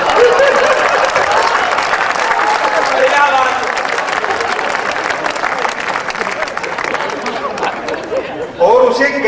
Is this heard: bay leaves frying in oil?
no